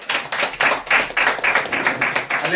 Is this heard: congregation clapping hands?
yes